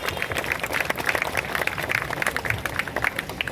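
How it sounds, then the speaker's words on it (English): A church congregation gives a dense, continuous round of applause for the parish priests, many hands clapping at once for the full length without a break. "With, of course, a thunderous round of applause."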